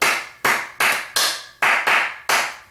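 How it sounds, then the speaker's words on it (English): Hands clap seven times in a row, close and sharp, in a steady rhythm with brief ringing decay after each clap and no talk over them. "So, and I clap my hands"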